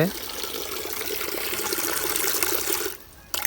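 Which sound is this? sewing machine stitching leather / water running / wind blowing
water running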